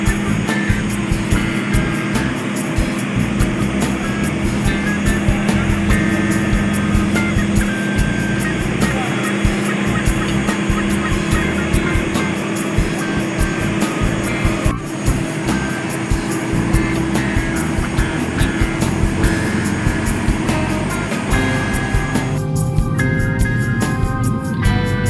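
Steady propeller airplane engine drone on a flight toward Waingapu in East Sumba, a loud continuous cabin hum running throughout with no talk.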